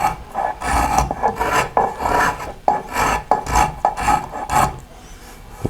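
Hand rasp or file strokes smoothing bandsaw marks on a curved wooden molding for a blockfront chest, a steady series of loud scraping passes, roughly one or two per second, with no talking.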